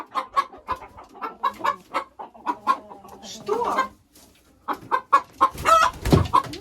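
An Araucana hen clucks repeatedly in a rhythmic series of loud, close calls, with a short spoken question from a person partway through.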